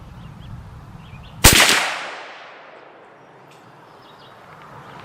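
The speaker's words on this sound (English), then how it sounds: "Let's shoot another one here." One loud shot from a CVA Scout rifle in .45-70 Government, a sharp blast followed by a long decaying echo, with quiet outdoor ambience before and after.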